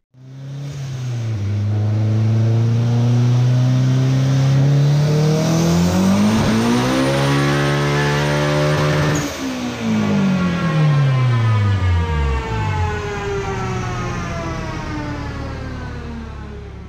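A turbocharged Honda S2000 with a ball-bearing turbo on 12 psi makes a dyno pull. The engine revs climb in a loud, rising whine, then drop off and wind down through descending tones.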